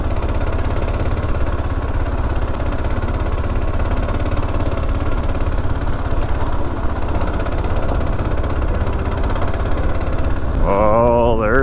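An old Kawasaki KLR motorcycle rides along at a steady, loud pace with an even engine drone and wind rush, and a brief voice comes in near the end.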